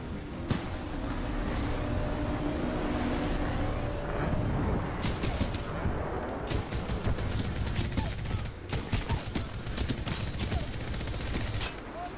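Dense gunfire from a Titanfall 2 match, continuous rattling bursts and overlapping shots with sharp louder cracks, loud and close throughout with a brief voice near the end.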